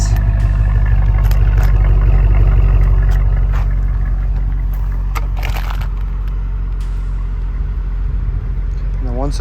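A deep, steady V8 exhaust burble from a 2005 Mercedes CL55 AMG with quad tip exhaust idles loudly and close by, a low rumbling throb that softens slightly toward the end.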